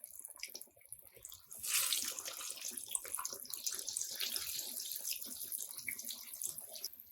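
Coated masala fish goes into hot oil in a kadhai over medium heat. A hiss rises sharply at about two seconds and settles into a steady, close sizzle with no talking.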